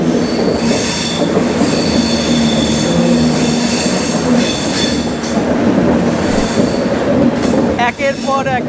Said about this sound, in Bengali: ট্রেন ছুটছে দুর্বার গতিতে